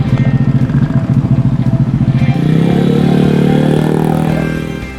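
A motorcycle engine pulls away from a traffic light, a loud, near throbbing idle giving way to a smooth, rising rev as it accelerates, then fading slightly at the end.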